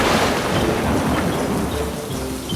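Heavy rain pours in a bedtime-story sound effect, a loud, dense, continuous roar of downpour with a deep thunder rumble underneath, steady throughout.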